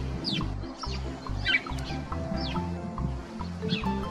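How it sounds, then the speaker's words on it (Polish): House sparrows and tree sparrows chirp busily close by, with repeated short, bright calls overlapping in quick bursts against a low background murmur. "Wróble i mazurki żyją w sąsiedztwie człowieka, dając znać o swojej obecności donośnym ćwierkaniem."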